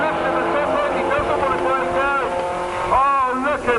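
Drag race at Bug Jam 18 in 2004 between a road-legal VW Cabriolet and a dedicated race car, engines roaring and rising in pitch through gear changes, loud and close, with a commentator talking over them.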